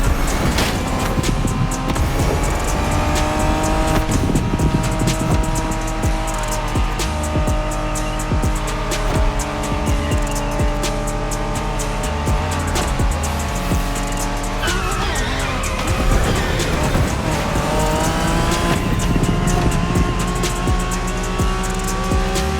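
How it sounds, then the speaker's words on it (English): A Honda NSX sports car in the racing game The Crew Motorfest drives hard, its engine revving and shifting continuously with tire squeal and skidding layered over a steady, loud drone and no talk. "Are you familiar with the Honda you're driving? The NSX isn't your regular street car."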